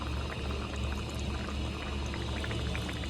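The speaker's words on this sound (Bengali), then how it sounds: "এটা হাতে বানানো টমেটো সস, এটা দিয়ে দিই একটুখানি" Homemade tomato sauce is poured into a cooking dish, giving a steady, close, liquid rush that runs unbroken for a few seconds with no talking.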